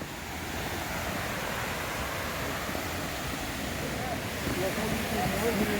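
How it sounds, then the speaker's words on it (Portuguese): A waterfall roars as a steady broadband rush of falling water outdoors, continuous and moderately loud throughout. "Olha aí. Mais uma cachoeira."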